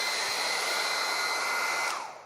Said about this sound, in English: I'm going to use the hair dryer where I'm cutting